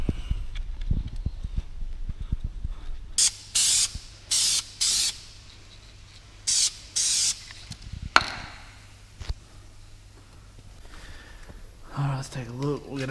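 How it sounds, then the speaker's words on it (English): Grease and wax remover sprayed onto a car wheel rim, heard as several short, sharp hissing bursts from an aerosol can at close range, with workshop handling noises before and after. "Alright, grease and wax remover."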